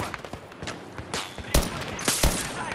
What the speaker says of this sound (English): I'm taking heavy fire at my position